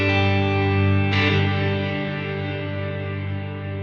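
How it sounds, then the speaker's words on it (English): Electric guitar through an HX Stomp using the Searchlights stereo reverb, a sustained shimmering wash of chord tones, with a fresh strum about a second in that swells and then slowly decays in a long ambient tail. "let's pull in our Searchlights reverb, stereo, Searchlights,"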